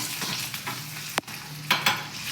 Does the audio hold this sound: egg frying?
yes